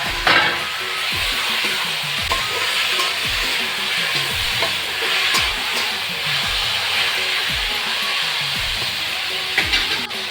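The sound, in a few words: tomatoes frying in oil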